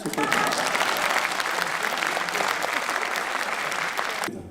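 A crowd at a Farmers' Day ceremony held by a provincial farmers' association in Gyeongsangbuk-do, South Korea, breaks into strong, dense applause. The clapping runs at an even level, then cuts off abruptly just before the end.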